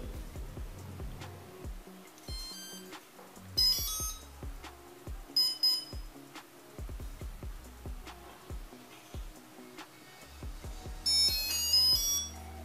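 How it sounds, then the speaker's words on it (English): A series of electronic beeps and tones plays in a musical sequence from an APM 2.8 quadcopter flight controller on battery connect, with repeated short chirps and higher trills, clear and close with no talking. "connect the battery and wait until you get a tone"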